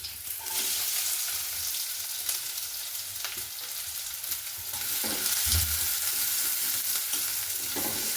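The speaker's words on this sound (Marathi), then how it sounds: "सोनेरी कलर होईपर्यंत त्याला फ्राय करून घ्यायचं." Onion and garlic frying in a pan with cumin, a steady loud sizzle throughout with occasional spoon stirs and scrapes, no voices.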